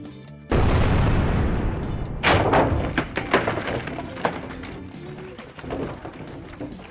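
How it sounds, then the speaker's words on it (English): Fireworks set off in a giant LEGO building challenge go up in a sudden loud blast, followed by seconds of rumbling and sharp crackling pops that slowly thin out. "Wow, that was a great explosion."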